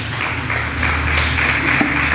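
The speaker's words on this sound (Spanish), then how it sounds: "Dale esa fuerte ofrenda de palmas al Señor" A church congregation clapping together in an offering of applause, a dense continuous roar of palms filling the room for a couple of seconds.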